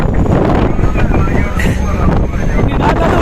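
Strong sea wind buffeting a fishing boat, a loud continuous roar and rumble blasting the microphone, with a voice speaking underneath throughout.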